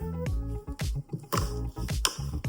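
Wet cement paper mache clay being pushed into a bucket of water, giving a few loud, close squishing plops and drips in quick succession.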